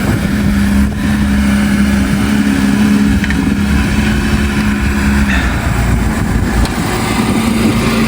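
Porsche GT4RS engine running steadily while warming up, a loud continuous low exhaust rumble with a slight rise in revs partway through, close and alone with no talking.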